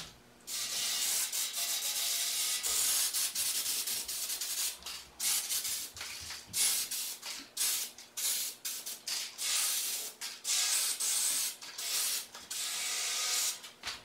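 Abrasive steel wool pad scrubbing stained metal bakeware, producing close, harsh back-and-forth scraping strokes in an uneven rhythm, with no talking.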